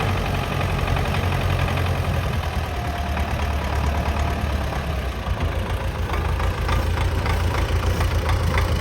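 Loud, steady mechanical drone and rattle of forage harvester machinery running as it engages for cutting corn silage, close and continuous without speech.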